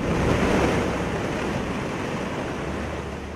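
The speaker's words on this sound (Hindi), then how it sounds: "बिहार के समस्तीपुर में बागमती की लहरें बौराई" The flooding Bagmati river in Samastipur, Bihar, surges in a continuous loud rushing roar of churning water, with wind buffeting the microphone.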